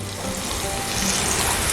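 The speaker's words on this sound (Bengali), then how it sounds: "এখন আমি এর মধ্যে দিয়ে দিচ্ছি পরিমাণ মতন জল।" Water poured into a pointed gourd (potol) curry in the pan, a brief continuous splashing rush over the hot sizzle, loud and close.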